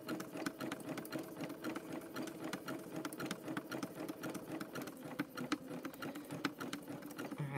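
A sewing machine stitches a rope bowl with a rapid, steady mechanical clatter and motor hum, close and even, running continuously with no talking.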